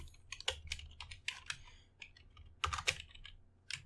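Keyboard keys typed in quick, irregular bursts with short pauses, close by and fairly quiet, with no talking.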